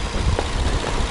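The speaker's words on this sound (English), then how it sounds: "Very smooth and quiet engine." A 2014 Nissan Maxima's 3.5-liter V6 engine idles with a steady, low rumble, smooth and even throughout the short moment.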